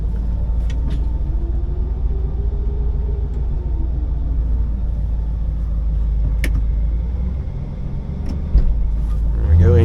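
Car engine idling with a low steady rumble inside the cabin while the driver shifts into reverse, faint clicks and knocks, and a slight thump near the end.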